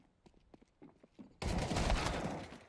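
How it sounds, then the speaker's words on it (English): Desert Eagle fired in a first-person shooter game, with several sharp scattered shots and clicks, then a sudden loud burst of dense rapid gunfire that fills the rest of the clip. "He's just like shooting everyone in the face with the deagle at this point"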